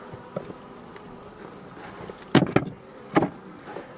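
Honey bees buzzing around a hive with a young queen, a soft steady hum with a few close, louder fly-by buzzes passing near.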